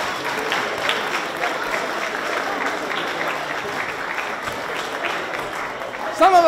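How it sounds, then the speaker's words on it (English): A crowd claps in sustained, steady applause that fills the whole stretch, indoors and fairly loud. "let's just give them a great round of applause"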